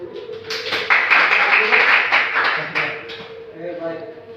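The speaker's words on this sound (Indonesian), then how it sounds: "Kita berikan aplaus untuk kelompok 1." A classroom group claps for a student presentation during a micro-teaching lesson, a few seconds of dense, steady clapping from several people nearby, starting after a voice speaks and tapering off with talk at the end.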